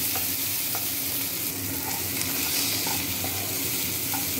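Garlic frying in hot oil gives a dense, steady, close sizzle that holds evenly throughout with no pauses or talking.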